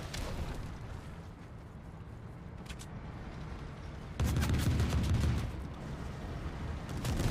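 Explosions rock a tank in a multiplayer video game, a continuous rumbling barrage with scattered bursts that swells louder midway through, heavy and close over constant battle noise.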